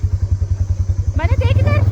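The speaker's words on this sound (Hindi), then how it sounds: "तो ये हमारी ATV की राइड स्टार्ट हो गई है।" ATV engine on a ride in the Shimla adventure area, a steady pulsing low drone close by throughout, with a voice talking over the second half.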